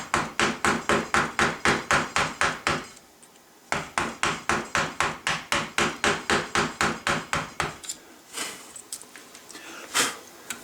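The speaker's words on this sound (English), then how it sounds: "you can use your chisel to cut down, and that'll give you sort of a stop depth that you want to go to" Chisel struck repeatedly with a mallet to cut down into wood on a gunstock in a gunsmith's workshop, a fast even series of sharp close knocks, a brief pause, then another long run ending in a few scattered taps.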